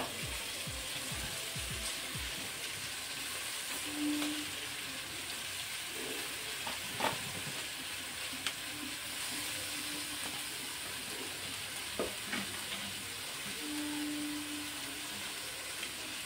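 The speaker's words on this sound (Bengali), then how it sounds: "জিরে গুঁড়ো দিয়ে দিলাম, দিয়ে এবার কষাবো সবজিটাকে।" Vegetables sautéing in a pan with cumin powder: a continuous soft frying hiss with occasional light clicks and taps from stirring, steady and moderately quiet, with no speech.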